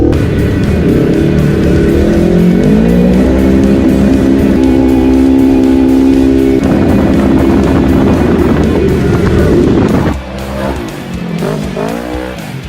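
A lifted 2005 Ford F-250 pickup driving fast uphill, its engine roaring loudly and steadily with rising revs, tires and drivetrain noise underneath, close and continuous.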